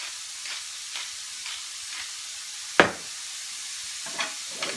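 Onion, peas and broccoli saute in a pan with salt and ground pepper, a soft continuous sizzle broken by light scrapes of a wooden spoon and one sharp clack against the pan.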